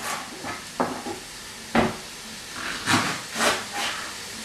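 Beef and onion sizzle while browning in a pan for chilli con carne, a steady hiss broken by several louder bursts as the meat is stirred, close and fairly quiet with no talking.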